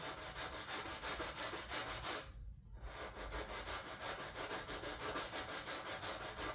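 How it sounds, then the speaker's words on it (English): Steady rhythmic back-and-forth sanding scrapes on a car's right rear fender, close and continuous, with a brief pause midway. "I'll probably just keep kind of sanding a little bit more every way"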